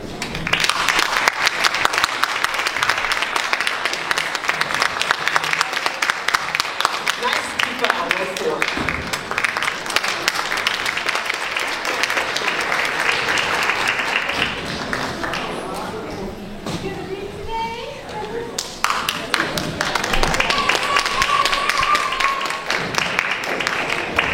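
An audience claps for two cellists at a live performance: dense, sustained applause from a crowd that dips briefly midway and then swells again, with voices mixed in.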